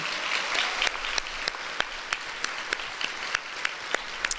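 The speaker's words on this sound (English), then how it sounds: "you deserve a big round of applause, all of you" An audience at a scholarship reception claps for the donors, a round of applause with sharp separate claps standing out over a steady patter.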